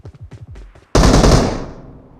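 A single loud gunshot bursts out in the PUBG video game and rings off into a fading tail, after a short run of quieter rapid clicks or footsteps.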